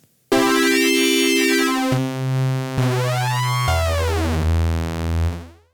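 A bright, buzzy synth from Ableton Drift plays a few sustained notes with sweeping, swirling chorus-like beating from two slightly detuned oscillators, loud and alone.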